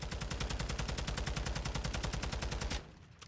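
TAQ 56 rifle firing on full auto in a video game, a rapid, loud, even burst of shots for nearly three seconds that stops abruptly and leaves a short fading tail.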